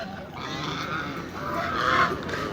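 A large flock of ducks honks continuously in a dense, overlapping chorus that swells slightly toward the end, with no voices.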